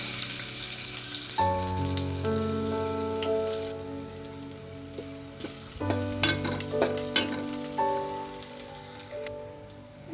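Chopped onion and green chili hit hot oil in a pot on the stove, bursting into a loud, steady sizzle that lasts throughout, with background music playing alongside and occasional clinks of stirring.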